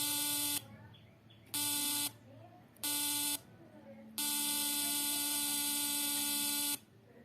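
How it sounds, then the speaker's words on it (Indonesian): A harsh electronic buzzer from a simple comparator alarm circuit that sounds in low light, in four bursts, three short ones with gaps between, then a longer sustained tone, loud and close. "jika intensitas cahaya rendah atau redup, maka alarm akan berbunyi"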